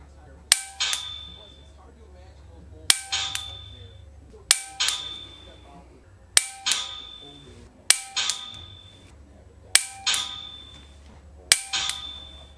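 A dry fire laser target gives a sharp ringing ding each time a shot hits, about seven evenly spaced beeps, each tied to a quieter click just before it, with near silence between them.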